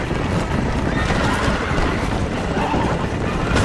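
Horses move along a road in the video game Red Dead Redemption, with dense, continuous hoofbeats and clip-clop filling the scene, alongside whinnying and rumbling movement.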